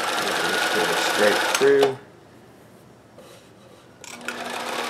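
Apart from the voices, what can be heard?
Singer 431G or Kenmore 158 sewing machine chain stitching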